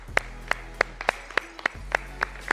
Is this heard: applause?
yes